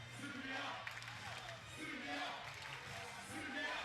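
Beach soccer crowd in Belgrade at a Czech–Serbia match, chanting in rhythmic surges that rise and fall every second or so, moderately distant.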